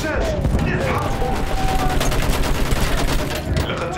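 Dense, rapid bursts of automatic gunfire in Battlefield 1 rattle continuously and loudly, layered with battle noise and no clear speech.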